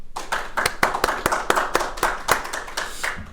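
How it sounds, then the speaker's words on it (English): A small group gives a podcast guest a round of applause, with a couple of dozen sharp, close claps in a quick, uneven rhythm that keeps going steadily for a few seconds. "Round of applause."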